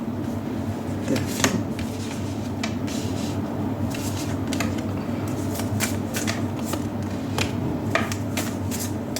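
Tarot cards being shuffled close up, repeated soft riffling and light slapping bursts over a low steady room hum, with no talk.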